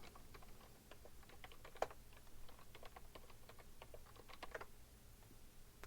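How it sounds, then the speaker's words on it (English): Keys on a computer keyboard are tapped in a quiet, steady stream of soft clicks as a passphrase is entered, with a few sharper keystrokes standing out. "So I'm going to put in a passphrase"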